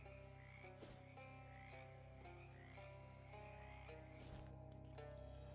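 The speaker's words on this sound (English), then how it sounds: "They're frogs." Frogs croak in a video game scene from Shadows Over Loathing, a run of repeated rhythmic croaks over a steady low game music bed, fairly loud and with no talk.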